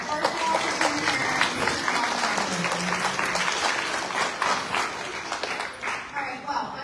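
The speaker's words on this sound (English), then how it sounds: "I would just like to begin by giving yourselves a round of applause" An award ceremony audience claps for itself, sustained, fairly close, dense applause from many hands that tapers slightly toward the end, with a brief voice faintly heard early on.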